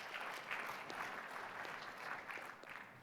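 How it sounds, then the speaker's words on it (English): An audience at a talk on eliminating flu in commercial swine farms claps for a presenter being introduced. The applause is moderate and evenly sustained for a few seconds without speech. "let's give a round of applause for Dr. Storms and our last presentation"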